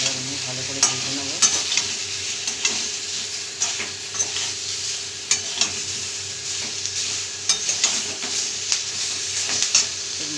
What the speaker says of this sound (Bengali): দিয়ে এবার আমি ভালো করে ভেজে নেব।